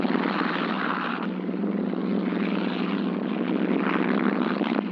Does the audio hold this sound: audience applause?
no